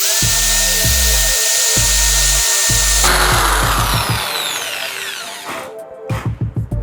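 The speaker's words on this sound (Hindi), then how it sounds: "ये मैं इस मार्बल पीस के ऊपर ग्राइंडिंग रॉड को यूज़ करके दिखाता हूँ।" A handheld rotary tool from a Craftsman DIY kit runs a grinding rod against a rough marble piece, loud whining motor with stuttering start-stop bursts, then a harsher grinding rasp and choppy pulses near the end.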